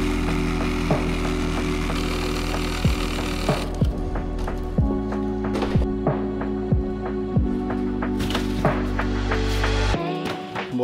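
A jigsaw cutting wood buzzes steadily with a low motor drone, broken by repeated short cutting strokes and knocks, fairly close and loud.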